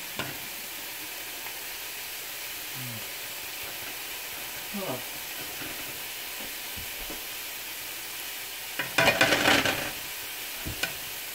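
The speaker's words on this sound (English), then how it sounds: "They got to cook for a little bit because the sausage needs to brown." Sausages frying and browning in a pan give a steady close sizzling hiss, with a few clinks from stirring and a short louder burst of scraping toward the end.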